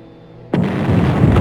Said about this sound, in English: This is exploding right now.